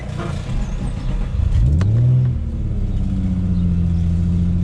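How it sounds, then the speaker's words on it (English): A Nissan G35 sedan engine cold-starts, revving sharply once before settling into a loud, deep, rumbling idle through a throaty aftermarket exhaust. "we're gonna give you guys a little cold start with the new exhaust setup"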